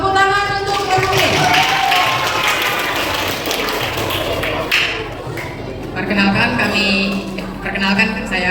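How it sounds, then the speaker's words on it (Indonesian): Children's school Easter celebration, with clapping for a team of pupils mixed with loud young voices and shouts; the clapping is uneven and busy, with cheering rising and falling over it. "Tepuk tangan untuk regu B."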